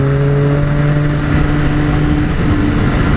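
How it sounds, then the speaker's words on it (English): A sport motorcycle at Daytona accelerating hard, loud continuous engine drone with steady tones shifting as quick-shifter gear changes cut through near the end, no voices. "God, I love the quick shifter on this bike."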